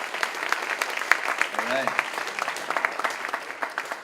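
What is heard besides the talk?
audience applause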